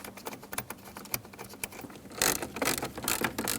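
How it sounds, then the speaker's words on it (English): Bolts are hand-tightened on an interior panel of a 2012–2017 Hyundai Accent, heard as close, rapid small clicks and rattling ticks that grow busier and louder partway through. "We can insert our two bolts here. I'm just going to hand tighten them first."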